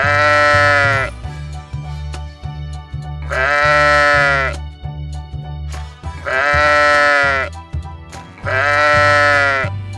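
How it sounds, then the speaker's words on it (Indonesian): Four loud, drawn-out sheep bleats, each a wavering nasal cry separated by short pauses, over a steady low hum. "Kambing. Lamb."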